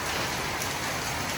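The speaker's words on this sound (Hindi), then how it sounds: "देखो ये बारिश देख रहे हो, इतनी तेज बारिश आ रही है" Heavy rain pours down steadily in a close, dense hiss of drops striking surfaces, continuous and loud throughout with no voices.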